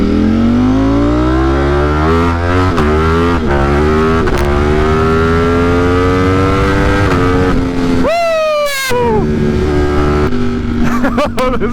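A tuned motorcycle with a smaller front sprocket and an aftermarket eBay exhaust roars loudly up through the gears, its engine pitch climbing and dropping with each shift, then a sharp rev burst and crackling exhaust near the end.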